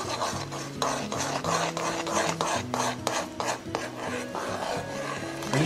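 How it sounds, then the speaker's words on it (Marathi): Jaggery syrup is stirred steadily in a pan as it comes to a boil for laddoo, giving a continuous scraping, rasping rhythm of utensil against metal, close and fairly loud with no talk. "आणि सतत ढवळत राहायचंय ह्याला."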